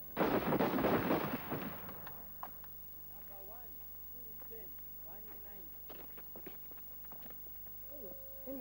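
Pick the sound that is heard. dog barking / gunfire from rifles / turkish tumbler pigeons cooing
gunfire from rifles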